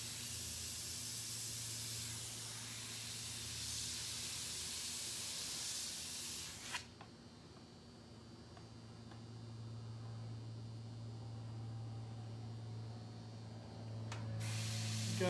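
Black paint hisses steadily from an airbrush as edges are crisped up, stopping abruptly partway through, a low hum continuing, then the spray starting again near the end.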